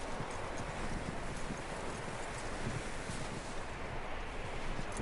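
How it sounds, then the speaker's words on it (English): Steady video game horse hoofbeats clip-clop beneath a constant wash of wind-like noise, the rhythm faint and continuous throughout. "That looks like a decent horse. You should keep him. Get that horse hitched."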